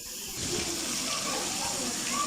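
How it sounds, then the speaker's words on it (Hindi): Water is poured into fried biryani masala for white chicken pulao, a steady gushing splash running continuously at moderate volume without talk. "अभी जो है ना हमारा मसाला भुन चुका है तो इसमें से हमने थोड़ा सा पानी ये ऐड करना है।"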